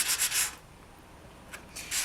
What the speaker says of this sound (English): And just go around the edge and sand.